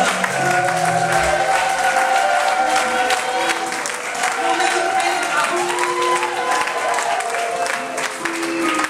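A church congregation at a pastor's 20th ministry anniversary celebration claps and cheers in sustained, loud applause, with a voice and musical tones carrying over the crowd throughout.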